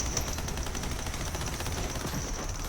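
Rapid automatic gunfire crackles without a break in a Borderlands-style shooter, a dense stream of fast shots with no pauses, playing under game ambience at a moderate level.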